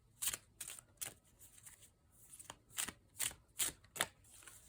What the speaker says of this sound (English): So that's how I'll shuffle this deck.